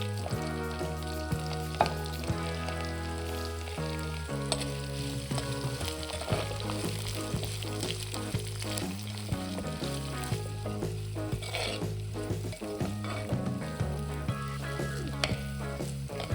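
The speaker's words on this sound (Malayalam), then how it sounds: "ഒരു 5-8 പച്ചമുളക് അരിഞ്ഞതും, ഒരു കഷ്ണം ഇഞ്ചിയും, ഒരു ചെറിയ സവാളയും, 5-8 വെളുത്തുള്ളിയും, കുറച്ച് കറിവേപ്പിലയും ഇട്ട് നന്നായിട്ട് നമുക്ക് മൂപ്പിക്കാം" Chopped green chillies, ginger, onion, garlic and curry leaves fry in oil in a pan for a Kerala fish curry, giving a continuous sizzle with stirring clinks, while music plays steadily underneath.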